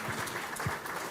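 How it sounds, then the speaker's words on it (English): Short stretch of audience applause at an African social entrepreneurship conference, a steady spread of clapping hands heard from the hall at moderate volume. "Please, a round of applause."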